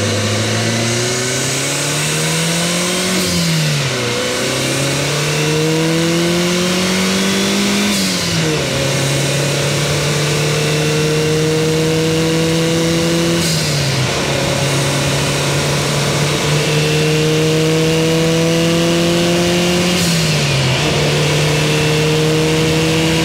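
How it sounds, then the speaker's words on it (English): A turbocharged Mini car engine revs hard through several gear changes, pitch climbing then dropping at each shift with a short hiss, loud and close. "Ripping through the gears, you're hearing the turbo, you're shifting, and it's going pss as you shift."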